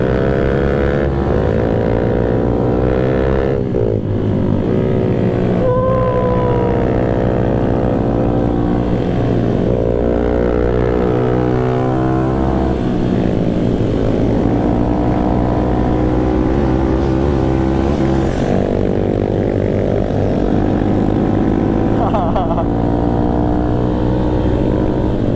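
Honda CB motorcycles ride together with throttles open, a steady, loud, droning engine roar that rises and falls in pitch as they accelerate, close and continuous for the whole stretch with no talking.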